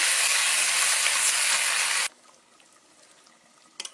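Chicken being fried with spices in a pan gives a loud, steady sizzle for about two seconds, then cuts abruptly to quiet kitchen background with a brief clatter near the end.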